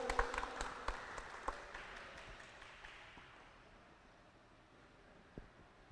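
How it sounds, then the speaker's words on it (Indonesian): An audience at a village small-business forum claps for the village head, a scattered burst of hands that is fairly loud at first, then thins and fades to a faint murmur, with one sharp clap near the end. "Boleh tepuk tangan untuk Pak Lurah lebih dulu"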